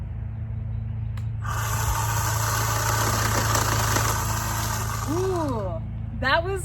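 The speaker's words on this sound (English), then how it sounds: "I have the pole saw." A Litheli 20V cordless pole saw with an 8-inch bar whirs at full speed through wood, a loud, steady buzzing drone lasting several seconds before winding down, with a voice briefly over the end.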